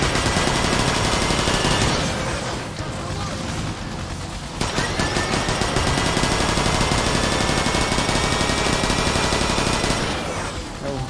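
Rapid automatic gunfire in a Transformers video game, loud bursts of shooting with short gaps, over busy game sound and talk.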